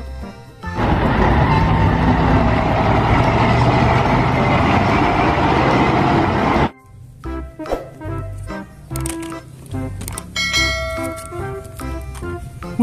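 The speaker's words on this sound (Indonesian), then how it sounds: "Wow, lihat, ada mobil Derek." A toy or cartoon tow truck driving, with a loud, steady broadband engine-like rumble for about six seconds that stops abruptly, followed by lighter clattering and bell-like tones.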